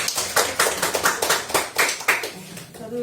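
Audience applause for a presenter who gave an in-depth talk at a panel discussion on the low birth rate: a steady burst of many hands clapping throughout, moderately loud and fairly close, with no voices over it.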